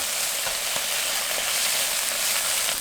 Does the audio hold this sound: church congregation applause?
no